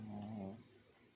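An old dog, nearly fifteen, snores once close by, a single low, throaty rasping breath that fades out halfway through, followed by quiet.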